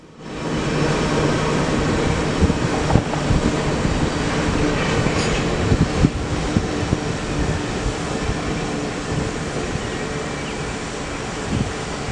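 A mixed freight train rolls past at Fort Madison, Iowa, a steady loud rumble of rail noise with clattering wheels and faint squeals, sustained for the whole stretch without talk.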